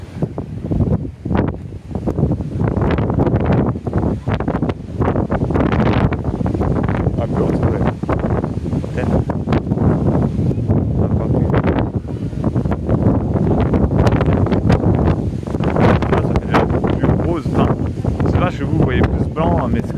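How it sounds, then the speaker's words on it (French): Strong wind blows outdoors and buffets the microphone in a loud, continuous rumble that lasts throughout, with a voice faintly present beneath it. "on est dehors, du coup, et il y a peut-être le vent, du coup, vous allez entendre un petit peu"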